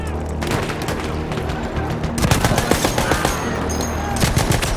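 Trench gun fire in the video game Battlefield 1, loud rapid overlapping shots and booms from a close battle, continuous and dense with sharper clustered blasts in the second half.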